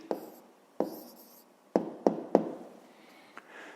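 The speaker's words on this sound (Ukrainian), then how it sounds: "зараз тоді записуємо відповідь, пишемо відповідь" A pen writes an answer by hand on paper, a faint series of scratchy strokes and light taps, several sharp contacts spaced irregularly in a quiet room.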